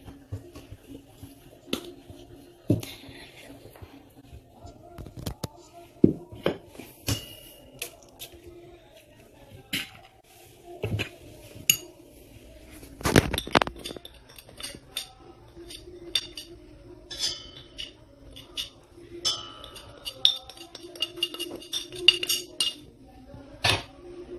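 Pizza dough ingredients, including a single egg, being mixed by hand in a bowl at home, with scattered clinks, taps and soft squishy knocks arriving in irregular bursts, one louder clatter midway, with no talking.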